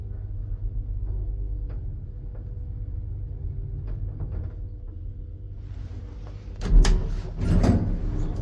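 An old DEVE holeless hydraulic elevator in a Swedish hotel hums and rumbles steadily before its door slides with a louder clattering rush near the end.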